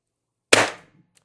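A single sharp shot from a stock-built airgun powered by four 12-gram CO2 cartridges, one loud crack with a short decaying tail and near silence around it.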